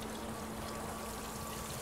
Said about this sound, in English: The float switch is gonna kick in and the water comes out and pumps through the grid.